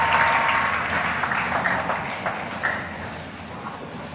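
A church congregation applauds after a sermon reading, a dense wash of clapping from many hands that swells at first and slowly tapers off, with faint voices mixed in.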